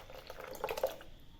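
A ground spice and yogurt paste is poured into a cooking pan, giving a soft, brief liquid splash and slosh in the middle of an otherwise quiet moment.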